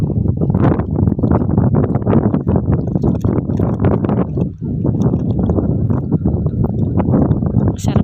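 Strong wind gusting across an open farm field with trees and water buffalo nearby, a loud, steady roar buffeting the microphone with a brief lull midway.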